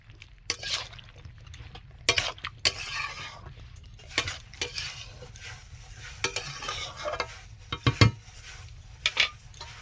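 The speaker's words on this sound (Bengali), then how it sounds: "ওর মধ্যে এবারে চিংড়ি মাছগুলো ভেজে রেখেছি এগুলো দিয়ে দেব।" Fried shrimp are stirred into a pumpkin stem curry in a pan, with repeated metal spoon clanks and scrapes against the pan over a low simmering sizzle, all close by.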